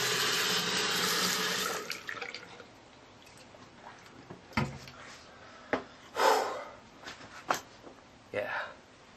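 Tap water gushes steadily into a sink for about two seconds, then stops, followed by scattered soft knocks and handling sounds as a person speaks briefly.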